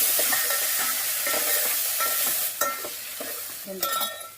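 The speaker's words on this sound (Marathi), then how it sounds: "सर्व चांगल्या प्रकारे हलवून घ्यायचं" A spoon scrapes and stirs through a pot of kheer with charoli nuts, soft repeated clinks over a steady background sizzle and hiss, close and moderately loud.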